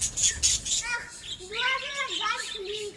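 Chukar partridges and a pet parrot at feeding time give repeated high chirps and short whistled calls, close and moderately loud, with some background voices.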